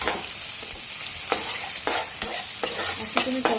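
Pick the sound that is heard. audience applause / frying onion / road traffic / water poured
frying onion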